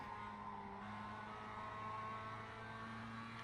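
A Global MX-5 race car engine in iRacing at the Tsukuba circuit, a faint, steady, droning engine note held at constant revs with no break.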